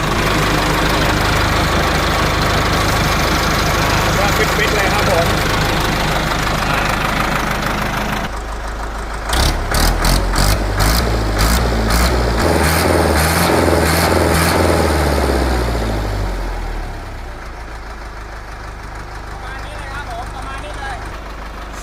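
Ford 6600 T5 tractor diesel engine idling loud and close, a steady rumbling chug that turns into rhythmic knocking pulses midway, then settles lower, with someone talking over it throughout.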